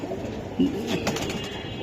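Silver Giribaz pigeons, pale as milk and sold as aluminium-coloured birds, give a soft low coo at close range, with faint rustling and background murmur around it.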